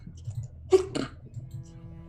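A person sneezes twice in quick succession during a tabletop role-playing game session, sharp bursts close to the microphone over a quiet room with low background murmur.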